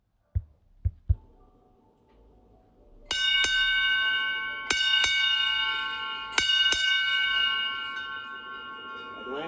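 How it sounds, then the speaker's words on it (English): A bell is rung as space shuttle Atlantis departs the International Space Station for the last time: a few faint taps, then four loud, bright metallic strikes with long ringing decay, close and clear with no talk over them. "going to ring the bell for the last time"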